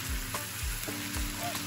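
Tomato frying in hot oil for home-style chicken makes a dense, continuous sizzle close by, with a few faint clinks over the steady hiss.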